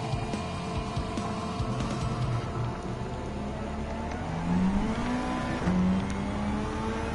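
A World Touring Car at full throttle around Suzuka Circuit in Gran Turismo 7, engine roaring loud and close, pitch rising through the gears with brief shifts and climbing whines.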